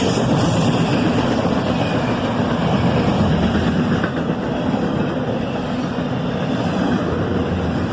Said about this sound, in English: a pair of ES-44 ACHs lead a big double-stack train southbound